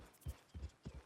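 Horse hooves clip-clopping at a walk in the video game Red Dead Redemption 2, three distinct soft hoofbeats in an even rhythm, faint and fairly close.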